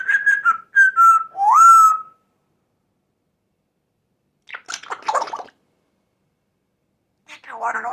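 An African grey parrot whistles and gurgles in short bursts imitating running water, with clear pauses between the bursts and a person talking in between.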